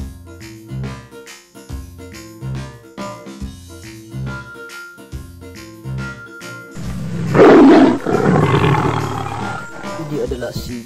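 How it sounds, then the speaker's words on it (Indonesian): A lion lets out one loud, rough roar lasting a couple of seconds, rising over a backdrop of rhythmic background music and fading into a rumbling tail. "Ini adalah singa."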